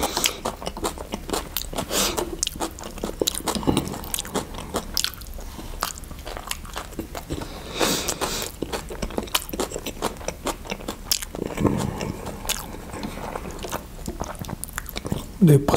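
Close-up mukbang eating of smoked chicken in sauce: wet, squishy biting and chewing with mashing and scraping sounds, repeating steadily throughout with occasional louder bites.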